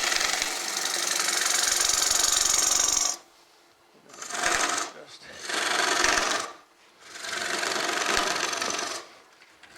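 A wood lathe hollows a soft natural-edge basswood bowl, the gouge cutting in loud sustained bursts separated by short quiet pauses, with a bright hissing, scraping texture.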